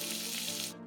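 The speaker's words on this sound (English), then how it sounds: "This is the sound of breakfast coming together after the night shift." Breakfast food frying in a pan, a steady close sizzle with dense crackling that cuts off sharply near the end of a brief stretch.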